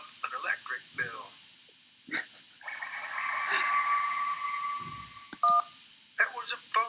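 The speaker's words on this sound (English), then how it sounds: "That was a phone ringing underwater." A phone ringing underwater, a muffled game sound effect from Kentucky Route Zero, plays as a steady warbling tone for about three seconds with a gap in it. A person talks before and after it.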